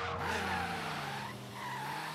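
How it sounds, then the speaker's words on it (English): A car in Forza Horizon 3 drifts through a full spin, its tires squealing in a loud, continuous screech over the engine's steady drone. "I will now pull a 360 degree drift"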